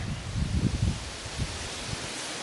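Wind gusts buffet the microphone in low rumbling bursts, with a faint rustle behind them, outdoors on the North Country Trail.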